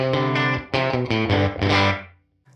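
Distorted electric guitar chords strummed through a UAFX Woodrow 55 amp pedal with room emulation, thick and saturated with a roomy ambience, ringing out and then cutting off.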